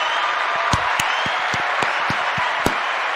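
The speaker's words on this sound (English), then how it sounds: "I want to give him a round of applause." A short round of applause: scattered, distinct claps ring out against a hissy background, irregular and fairly close, lasting a few seconds.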